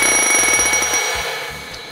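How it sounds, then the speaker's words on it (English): A firefighter's breathing apparatus low air alarm rings out in a rapid, repeating electronic trill, loud and close, fading slightly toward the end. "That alarm you just heard at the end, that's our low air alarm."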